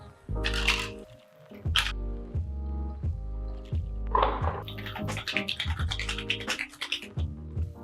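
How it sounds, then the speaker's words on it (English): About four ice cubes rattle in a cocktail shaker while a three-ingredient martini is mixed. A few short, bright rattling bursts sit over steady background music. "We'll add about 4 ice cubes to our shaker and then give it a shake."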